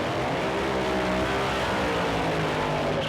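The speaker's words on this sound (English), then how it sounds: "it's a classic duel, funny car versus dragster" A funny car and a dragster run side by side at a drag strip, their engines producing a continuous, loud, dense roar that holds steady throughout.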